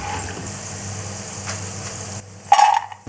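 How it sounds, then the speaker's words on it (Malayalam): Raw masala chickpeas deep-frying in hot oil and being stirred, with a steady bubbling hiss that drops away near the end and a brief louder scrape or clink. "ഒന്ന് ഇളക്കി വറുത്തെടുക്കാം"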